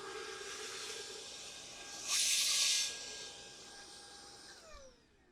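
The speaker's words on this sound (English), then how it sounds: "I'm going to vacuum the art caddy just to get the dust off." A vacuum cleaner briefly sucks dust off an art caddy, a loud airy hiss of under a second that rises above a quiet room hum and then cuts out.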